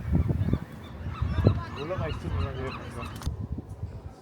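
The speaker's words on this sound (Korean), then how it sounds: "아우 갈매기 봐. 바닥에 갈매기 똥 천지야." Seagulls call at Alcatraz Island in San Francisco Bay: several harsh, squawking cries at moderate distance, clustered near the middle over steady outdoor ambience.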